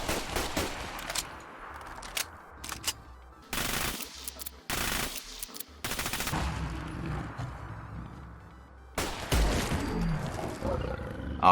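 Bursts of automatic fire from a PP-91 Kedr pistol in Fallout 4, aimed at a Deathclaw, in several long loud volleys separated by brief pauses, mixed with the creature's roars and game effects.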